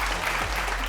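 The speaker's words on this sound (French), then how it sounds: "On applaudit bien fort." Steady applause from a fashion show crowd, dense and continuous clapping throughout, fairly loud and close.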